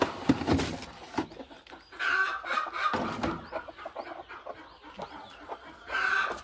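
A domestic country hen brooding on a clutch of eggs gives soft, intermittent clucks and low murmurs close by, with a few sharper calls from nearby fowl in a farmyard setting.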